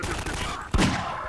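Magnum revolver firing in Half-Life 2, a single sharp, punchy gunshot cracking out midway through a quiet stretch of low game ambience, followed by a short decaying tail.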